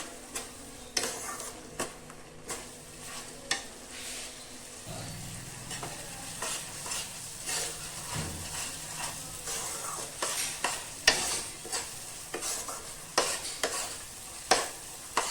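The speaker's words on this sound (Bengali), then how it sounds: "এই মশলাটাকে এবার ভালো করে বেশ কিছুক্ষণ ধরে কষিয়ে নেব, যতক্ষণ না মশলা থেকে তেল ছেড়ে আসে" Masala spice paste for fried-masala chicken curry is stir-fried in a pan: a steady sizzle broken by frequent scraping and clanking of a spatula against metal, in irregular bursts, close and fairly loud, with no talking.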